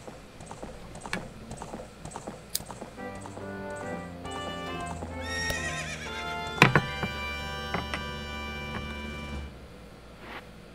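In Ocarina of Time, the horse Epona gives a bright, tonal neigh over a quiet bed of game sound, with clopping hoofbeats ticking in at an even pace and a sharp accent near the middle.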